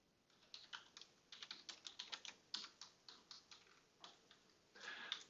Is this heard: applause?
no